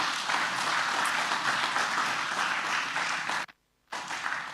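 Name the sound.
congregation applause in church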